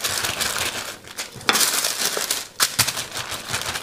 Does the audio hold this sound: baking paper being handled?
yes